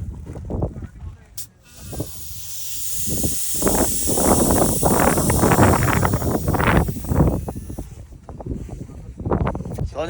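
A long, loud hiss of air escaping a car tyre valve, with people talking over it and brief bumps before and after, on the outback road between Windorah and Birdsville, Australia.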